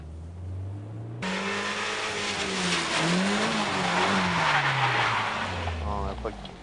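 A drifting car slides with its engine revving hard and tires squealing across the surface, the engine note rising and falling continuously and loudly at close range, with a brief lull at the start before the slide begins.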